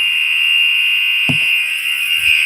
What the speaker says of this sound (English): let's see how long this fire alarm goes.